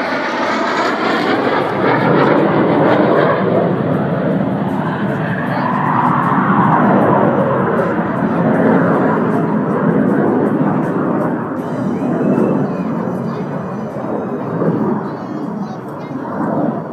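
A vintage military jet flies past at the Temora airshow with a loud, sustained, roaring engine rumble that swells and slowly fades over many seconds.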